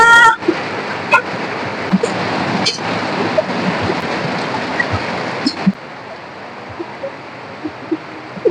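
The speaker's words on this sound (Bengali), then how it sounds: "দারুণ বৃষ্টি হচ্ছে না?" Heavy rain at a village wedding house during a hailstorm, a loud, dense, continuous roar of rain on surfaces with scattered sharp knocks of hail or drips, louder at first then slightly softer.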